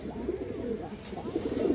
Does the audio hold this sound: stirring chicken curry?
no